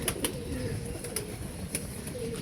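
Pigeons cooing softly amid a dense, noisy background, with a few short higher-pitched bursts breaking through; no voices.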